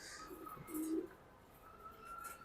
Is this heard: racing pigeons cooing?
yes